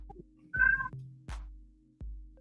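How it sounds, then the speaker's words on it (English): A domestic cat gives one clear, drawn-out meow close by in a quiet room, with a few soft low thumps and clicks before and after it. "Meow. You're a cat."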